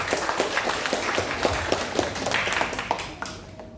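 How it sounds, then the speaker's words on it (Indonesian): Applause at a university diplomatic dialogue event at Universitas Jayabaya, a moderately dense patter of claps with some sharper individual hits, tapering off near the end. "Mari kita beri tepuk tangan sekali lagi yang meriah"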